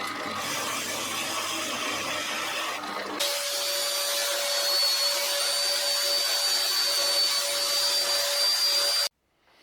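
A wood router whines loudly and continuously as it cuts out a Telecaster-style guitar body, starting after a softer mechanical hum, then cutting off abruptly near the end.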